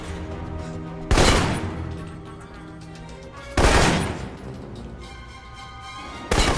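Assault rifle fire in the video game Alpha Protocol, during a Saudi missile raid: three short, loud bursts of shots at spaced intervals, with tonal music and ambience humming steadily between them.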